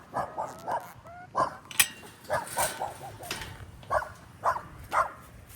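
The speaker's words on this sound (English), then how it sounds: "My neighbor dog always out barking." A neighbour's dog barks outdoors in a steady series of short, moderately distant woofs, roughly one or two per second, over faint yard background.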